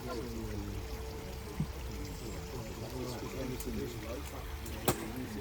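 Water trickles softly through a garden feature at the Chelsea Flower Show, a steady faint flow running beneath a voice talking over it.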